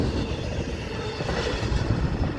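A Florida East Coast Railway UPS freight train passes close by in St. Augustine, Florida, a dense, steady rumble and clatter of rolling cars, loud and continuous throughout.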